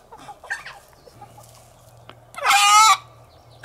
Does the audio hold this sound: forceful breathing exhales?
no